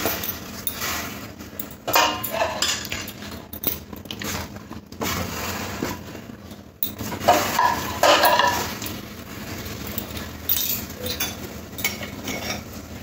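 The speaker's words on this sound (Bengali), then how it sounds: "এবারে কড়ার মধ্যে দিয়ে দেবো ফুলকপি আর আলুটা" Cauliflower florets and potato pieces go into water in a wok for cauliflower chops, with steady clinks and clatters of utensils and pieces against the pan for several seconds and no talking.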